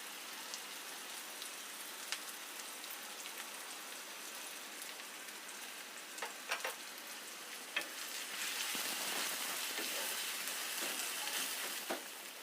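Onions and chopped garlic frying in a pan for mustard bharta, a faint continuous crackling sizzle with scattered pops, swelling louder toward the end.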